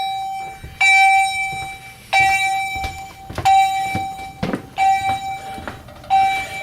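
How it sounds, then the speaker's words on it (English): A fire alarm speaker strobe sounds loud and near, emitting a steady series of ringing electronic tone pulses at a regular rhythm, roughly one per second and a half. "The speaker strobe back there."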